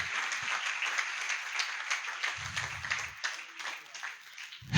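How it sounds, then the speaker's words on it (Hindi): A church congregation breaks into hearty applause during a worship service, a continuous crackling wash of many hands clapping at a steady level, with some low voices calling out beneath it. "यीशु नासरी के लिए जोरदार तालियां।"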